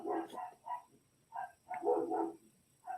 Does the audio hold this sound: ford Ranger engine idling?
no